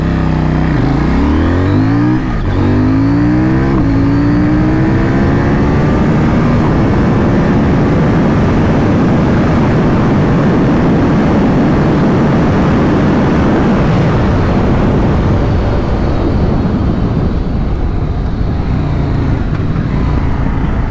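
A CFMOTO 800NK motorcycle pulls away hard from a standstill in first gear, its engine note climbing through rapid gear changes into a sustained loud, steady roar as speed builds.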